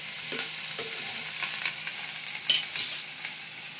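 Food frying in a pan, a steady close sizzle with stirring scrapes and a few sharper clinks of the utensil, no voices.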